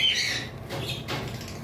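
A sun conure parrot gives a loud, harsh squawk at close range near the start, and brief wing flaps and rustles follow.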